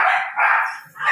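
Dogs bark at a house, three close, fairly loud barks in quick succession with short gaps between them.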